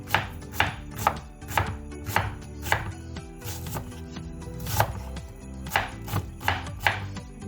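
A knife chops an onion on a cutting board in a steady, close series of crisp thuds, roughly two per second, over a faint low hum.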